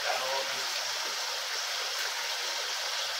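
Water is poured off beans while feijão tropeiro is cooked at home, making a steady, continuous trickling rush at moderate volume throughout.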